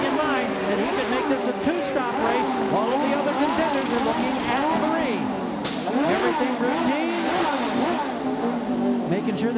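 An Indy race car engine revs in bursts during a pit stop at a 1998 Road America race, the rising and falling engine note sounding under a commentator's voice.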